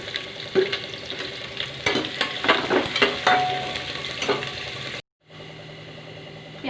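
Onions and green chillies hit a hot pan with cumin and fry with a loud crackling sizzle and stirring scrapes, then the sound cuts briefly and resumes as a softer steady sizzle.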